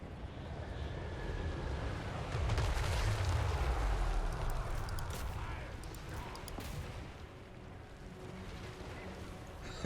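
Dreadquake mortar artillery firing in a Total War battle, deep booming blasts and rumbling impacts rolling over one another in a continuous low barrage, swelling midway and then easing into a fainter distant rumble.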